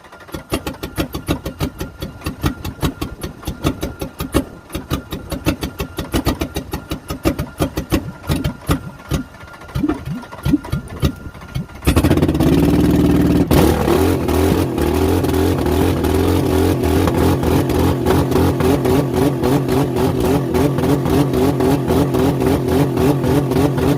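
A Ford car engine idles with a rapid, uneven chugging, then suddenly roars into a loud sustained rev about halfway through and keeps running hard at close range.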